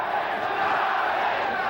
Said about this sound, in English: the crowd, after sitting on its hands through the entrance of the fighters and the introductions, has now gotten right into it in the first round